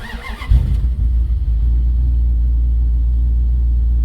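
The engine of a 1956 Dodge cranks briefly, then catches and starts, settling into a steady, loud, low idle rumble that continues alone to the end.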